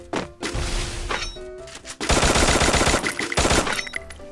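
Rapid bursts of automatic gunfire in the Free Fire shooter game, Purgatory map, loud and dense with overlapping shots, a brief lull near the middle then a sustained heavier volley with crashing impacts.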